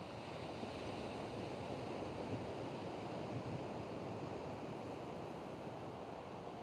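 Sea waves washing onto a cold shore, a steady soft wash of surf with no distinct breaks, faint and continuous with some wind rush and no voices.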